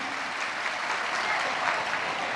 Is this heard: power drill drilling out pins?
no